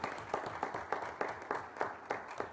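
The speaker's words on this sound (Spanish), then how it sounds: "¿Por qué no le damos un aplauso a Andrea?" An audience claps for Andrea Montilla at an OAS-hosted Indigenous Summit panel in Cartagena, a quiet, distant round of applause with rhythmic clusters of claps and no speech over it.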